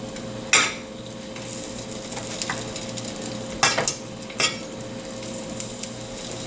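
Sweet Italian sausage frying in a pan for sausage wraps, a low steady sizzle broken by a few sharp clanks of utensils against the pan, no one speaking.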